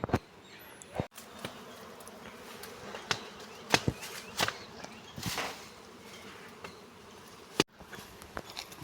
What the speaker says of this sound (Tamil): அந்த பாருங்க கொசுலாம் பறந்துட்டுருக்கு